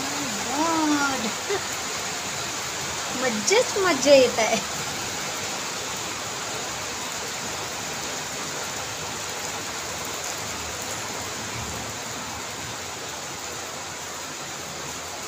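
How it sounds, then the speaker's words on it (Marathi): Heavy rain pours down in a constant, even wash of noise, with a person talking briefly near the start and again around the middle. "बघा भरपूर जोराचा पाऊस येत आहे, भरपूर."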